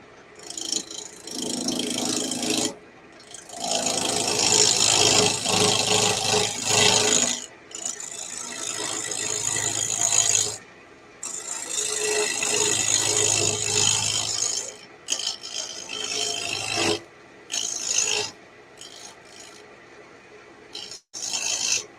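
A carbide lathe tool cutting wood, bursts of scraping and rasping a few seconds long, broken by short pauses, loud and close with no talk.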